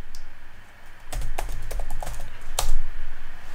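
Computer keyboard keys pressed while entering a command to set up a Raspberry Pi Zero 2 W, a few close, crisp clicks in two short bursts over a low steady hum.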